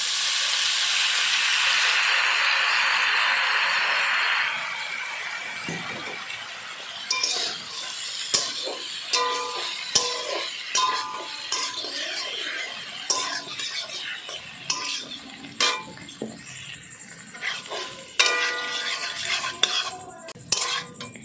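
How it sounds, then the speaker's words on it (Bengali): Pasta is tipped into a pan with a brief hiss, then stirred, with repeated clinks and scrapes of a utensil against the pan close by, irregular and fairly quiet. "এবার এখানে আমরা পাস্তাটা দিয়ে দেবো। চলো এবারে পাস্তাগুলো অ্যাড করা যাক এর মধ্যে।"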